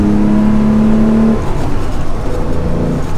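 Cabin sound of a first-generation Porsche 911 with a two-litre six-cylinder engine, a loud steady drone with a held rev tone that drops away partway through, heard from inside the car.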